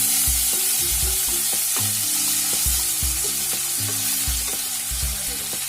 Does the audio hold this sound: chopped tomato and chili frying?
yes